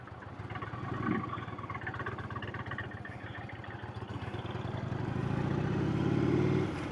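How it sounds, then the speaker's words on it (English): Car approaching on the narrow, steep Wrynose Pass in the Lake District, a mid-pitched engine hum growing gradually louder and nearer, straining as it climbs. "Yeah, there's a car coming."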